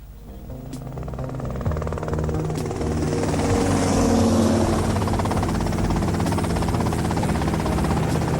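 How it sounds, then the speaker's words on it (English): A helicopter flies in GTA Vice City, its steady engine and rotor drone holding loud and continuous, swelling slightly midway with a thin overlay of game background sound. "Okay, that's them in the chopper."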